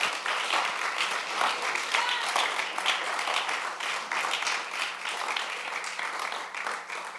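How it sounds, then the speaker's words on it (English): Loud, sustained applause from an audience for a student panel at a campus preview day, dense clapping running continuously throughout with a few voices mixed in. "Can you give this student panel a big round of applause?"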